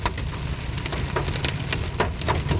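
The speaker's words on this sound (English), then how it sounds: "Going through a heck of a hailstorm." Marble- to golf-ball-sized hail pelting down during a hailstorm in Seaford, Virginia, a dense stream of sharp, irregular cracks and clatters against hard surfaces over a steady roar, close and loud.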